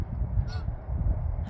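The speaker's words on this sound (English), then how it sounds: "Oh, there's the limpy goose. He's coming up to us." Goose honks twice, a short burst near the middle and another at the end, close by over steady low outdoor rumble on a farm; the bird has a limp and is walking toward the listener.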